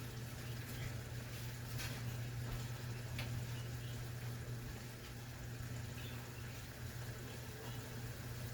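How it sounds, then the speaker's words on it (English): Water from a sauce jar pours into goulash sauce, a quiet continuous splashing and filling sound heard close up over a low steady hum. "I'm going to add a whole sauce jar of water to this."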